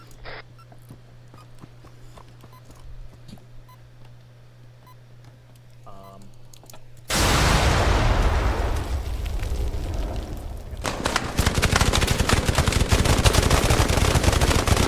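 Inside the Arma 3 video game, a loud blast suddenly erupts after quiet ambience and a steady hum, then sustained heavy gunfire rattles on with dense, rapid bursts through the end.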